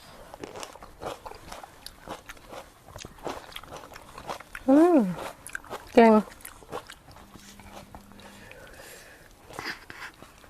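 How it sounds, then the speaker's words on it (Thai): Quiet biting and chewing on food during a meal of grilled squid with seafood dipping sauce, with soft mouth sounds, two brief louder vocal bursts and a low murmur of talk around it. "กัดเลยค่ะ"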